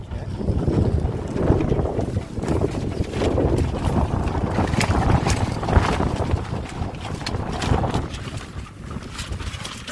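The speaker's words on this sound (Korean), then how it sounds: "갑자기 돌풍이 불기 시작합니다. 갑자기 바람이 세게 불어서" A sudden strong gust of wind sweeps across a seaside campsite, buffeting the microphone with a loud continuous roar and rushing noise that swells and eases throughout.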